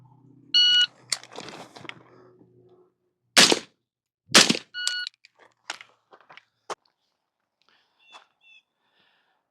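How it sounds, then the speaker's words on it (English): At an outdoor pistol course, a shot timer beeps and then a series of sharp, loud pistol shots ring out at targets from a kneeling position behind cover, spaced irregularly with quieter clicks and rattles between. "On the beep, we're going to go to a kneeling position, put 1 round on each target from behind cover"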